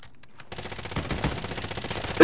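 Rapid automatic gunfire from a Call of Duty match, loud dense bursts that start abruptly after a moment of near silence and keep rattling steadily to the end.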